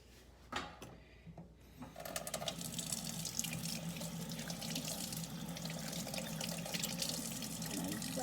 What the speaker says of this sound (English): we're going to go ahead and wash our hands for 20 seconds